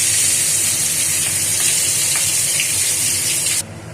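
Bhola fish frying in hot oil gives a steady, loud hiss and sizzle that holds unbroken for several seconds and then cuts off abruptly near the end.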